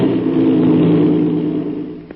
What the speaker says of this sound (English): That's the way an airplane motor starts, fast as a flash.